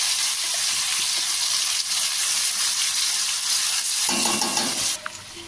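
A ground spice paste, blended without water, sizzles loudly in hot oil in a kadai, a continuous close frying hiss with a brief clatter near the end.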